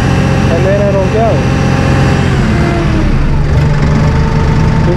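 A Massey Ferguson 1M/2M eHydrostat compact tractor's engine runs steadily at a loud, close idle-like drone while rolling downhill, with someone speaking over it throughout.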